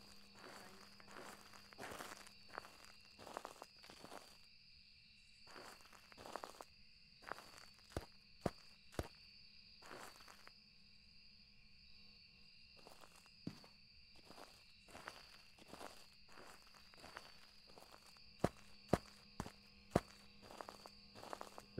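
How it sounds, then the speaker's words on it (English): Footsteps in the horror video game Phasmophobia, a steady run of clear steps over a long stretch with sharp transients, set against a constant tonal ambient hum and no talking. "Footsteps sounded to be so loud."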